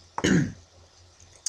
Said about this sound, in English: Sorry if I keep clearing my throat